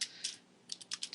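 Computer keyboard typing during a live game-development coding session: a few quiet keystrokes, a pause, then a quick cluster of clicks, close and soft with no talk.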